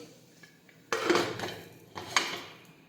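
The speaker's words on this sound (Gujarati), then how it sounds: "હવે આપણે કુકરનું ઢાંકણ છે તે બંધ કરી દઈશું" Two sharp metallic clanks of a pressure cooker lid being set and fitted onto the cooker, close and distinct against a quiet background.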